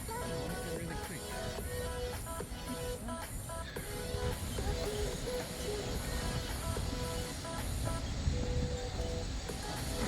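A steady, loud rumble of a train fills the scene, with faint repeating tonal clanks over the continuous roar and no talking.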